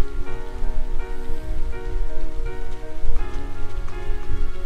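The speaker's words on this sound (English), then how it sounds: "And it's pouring rain." Pouring rain in the Trails of Cold Steel video game falls as a steady, loud wash of hiss and patter, with a quiet sustained musical tone running underneath.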